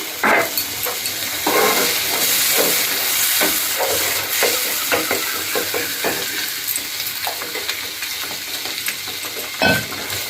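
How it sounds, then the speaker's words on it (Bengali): Water splashes into a hot frying pan of spiced gravy for bottle gourd dhokar curry, setting off a loud, steady sizzle and hiss with intermittent clinks and bubbling. "তো এখানে আমি জল দিয়ে দিচ্ছি।"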